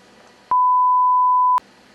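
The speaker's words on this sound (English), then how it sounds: "Oh, please beep that out" A single loud, steady censor beep, a pure tone held for about a second, cuts sharply over a spoken word, with faint room sound before and after.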